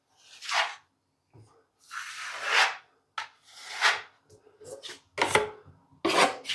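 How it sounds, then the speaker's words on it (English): Filler being spread on drywall with a filling knife, a series of close scraping and smearing strokes, each a short rasping swipe separated by brief pauses, quiet and isolated with no talk. "Again, a little bit on my filling knife. Just bring it in. I'm going to come across with it now."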